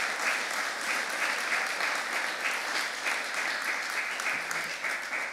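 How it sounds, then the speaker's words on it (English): An audience claps in a steady, sustained round of applause, the many hands blending into a continuous patter without any talking. "I think a round of applause for all our..."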